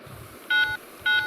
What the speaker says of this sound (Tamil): go to the phone and call the bad store